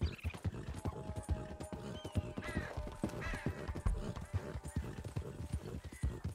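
A Strawberry Roan Ardennes draft horse ridden in Red Dead Redemption 2, with steady rhythmic hoof clip-clops at a lively gait and a few snorts and whinnies, close and clear over faint tack and mechanical jingling.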